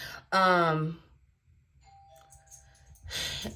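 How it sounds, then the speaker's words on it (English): A two-tone doorbell chime sounds once, clear and nearby, followed by a faint lingering tone and a brief voice. "somebody want to ring my doorbell"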